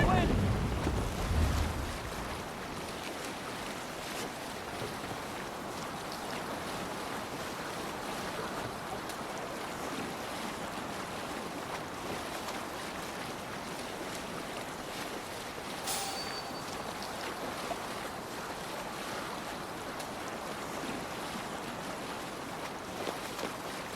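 A sailing boat at sea in the video game Assassin's Creed Valhalla, with a steady broad wash of waves, water and wind rushing continuously around the hull, a brief louder gust at the start and faint voices underneath.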